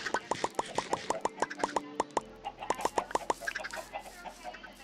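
Minecraft chickens cluck in a quick series of short, clipped game sound bursts, followed by a few softer clucks and plopping sounds, with no one talking.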